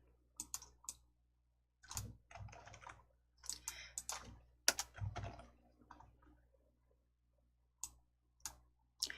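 Keyboard keys and mouse buttons click on a computer while someone works in the Hangul word processor, pressing Ctrl and F10. Sharp, close taps come in short irregular bursts separated by quiet gaps.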